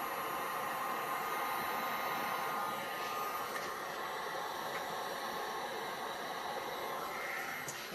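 A heat tool blows a steady, close hiss of hot air across resin flowers colored with mica powders, holding an even, unbroken rush for several seconds.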